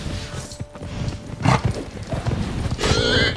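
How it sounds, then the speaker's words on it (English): Wild boars in The Witcher 3: Hearts of Stone, snorting and squealing nearby in loud bursts over footsteps and game ambience, with two sharp cries standing out. "Oh, these are the damn boars."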